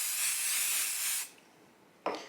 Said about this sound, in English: I'm going to take my adhesive spray and I'm just going to spray it real lightly